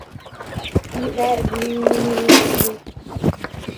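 Domestic chickens cluck in short bursts near a mountain dwelling, moderately close, with footsteps and brief talk mixed in around them.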